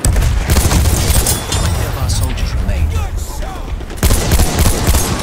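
Battlefield 1 gunfire crackles in dense, overlapping bursts of shots and booms, loud and close, with players talking over the battle throughout.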